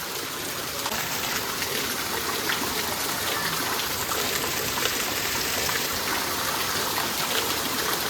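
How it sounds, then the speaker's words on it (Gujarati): Heavy monsoon rain pours down steadily in a Gujarati village, a dense, continuous hiss of water on surfaces that stays loud and even throughout with no talking. "એ ખરેખર અત્યારે વધ્યો વરસાદ"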